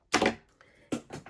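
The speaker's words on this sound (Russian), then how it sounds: "просто обрезаю нить" Scissors snipping a yarn thread after crochet work, two crisp close cuts with a short pause between, loud and clear in a quiet room.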